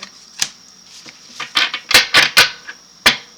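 Tarot cards being shuffled and handled, a series of crisp, close papery flicks and snaps in an irregular rhythm, quiet between bursts with no talking.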